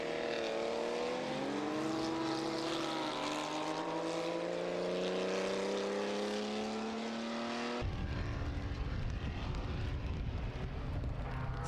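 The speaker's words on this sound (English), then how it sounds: "Speaking of Porsches, there's the 9146 going through shot, the 153 car." A Porsche 914/6 race car, number 153, drives past on the Algarve circuit during a historic racing festival. Its engine note climbs steadily as it passes, then cuts off abruptly into a rougher, noisier background.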